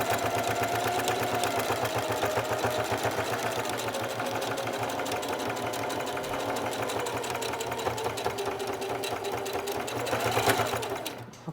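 A sewing machine top-stitches a zipper onto a tote bag, running at a slow, steady pace with a continuous close-up whir for the whole stretch.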